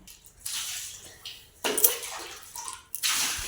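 Water poured and splashed for washing the face, coming in three separate bursts of splashing with short quiet gaps between them, close by.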